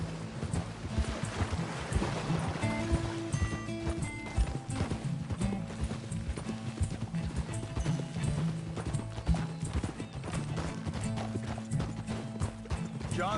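Horses ridden in Red Dead Redemption 2 clip-clop steadily throughout, hoofbeats close and continuous over a low musical bed, with an occasional whinny.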